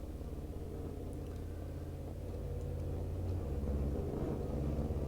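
A Toyota Camry 2019 NASCAR race car engine in a video game idles quietly, a low steady rumble and deep continuous purr with slight swells and no voices.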